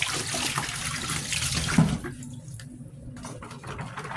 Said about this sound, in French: Je suis obligée de passer ça à l'eau vite fait